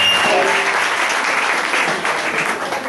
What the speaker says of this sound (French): Allez-y, acclamons le Seigneur pour eux.